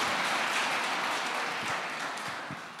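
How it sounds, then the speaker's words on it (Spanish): Church congregation applauding at a sermon, dense steady clapping throughout that tapers slightly toward the end. "Dale un aplauso al Señor."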